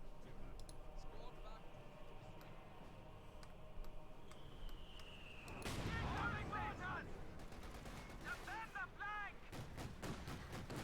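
Heavy 2 cm flak fire from a German flak half-track in the Company of Heroes 2 strategy game, sounding as dense, rapid bursts of gunfire and sharp cracks that swell loud midway amid game battle noise, with a commentator's voice over it.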